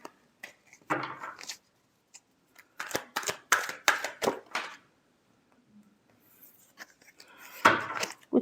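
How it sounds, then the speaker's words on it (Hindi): Tarot cards being shuffled by hand, close and crisp, in several quick bursts of riffling and slapping separated by short quiet gaps. "Last shuffle."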